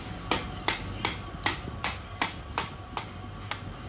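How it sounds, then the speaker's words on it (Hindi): A hammer taps a part into place on a Hero Glamour BS4 motorcycle engine being assembled: about nine evenly spaced, moderately loud metallic knocks, close by and steady in rhythm, over a low background hum. "चलिए इसको ठोक कर अंदर कर लेते हैं।"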